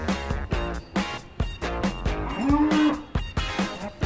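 A cow standing outside its pen on a farm gives a single long, low moo close by, set against repeated rhythmic thumping and background farm noise.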